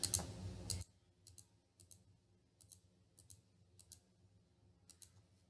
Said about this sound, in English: Just press page down key from your keyboard.